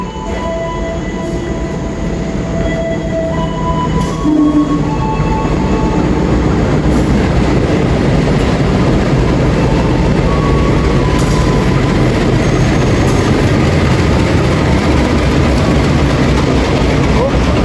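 The Malioboro Express passenger train from Malang to Purwokerto rolls in with a loud, steady rumble and rail clatter, a faint voice occasionally audible beneath it.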